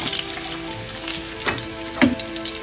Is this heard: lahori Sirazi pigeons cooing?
no